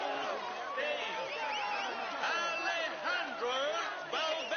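A large roadside crowd at a 2017 Tour de France stage podium cheers the stage winner with a continuous, dense roar of whoops, shouts and cheering that swells and falls in waves.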